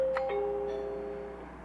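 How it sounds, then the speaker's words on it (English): A Globe camera doorbell gives a single two-tone ding-dong chime, a clear electronic tone that steps down and rings out with a fading tail, heard alone and fairly quiet. "when I hit the doorbell, we should hear it ring"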